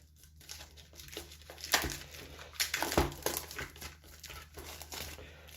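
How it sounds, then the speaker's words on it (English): Plastic wrapping on a Pokémon TCG Paldea Evolved booster box crinkles and tears close up in irregular bursts, with louder crackles toward the middle and no talk. "let's go ahead and get this booster box opened up right now"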